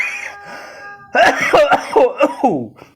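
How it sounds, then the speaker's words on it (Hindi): A short burst of harsh coughs, several in quick succession, close and fairly loud, following a brief voiced sound. "और ये खांसी किसकी आई? ये पीछे से इनका सरदार खासा।"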